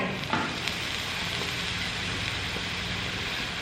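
Mixed vegetables sizzle and fry steadily in a hot pan during stir-frying, a dense continuous hiss close by with faint clinks of stirring and no voices.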